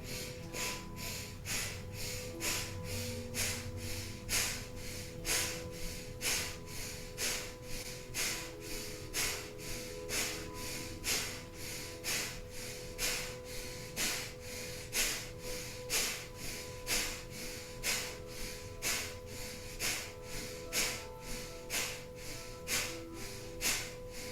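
Rhythmic breathing during a kundalini kriya: sharp forceful inhales and exhales repeating steadily about twice a second, close and loud over soft background music.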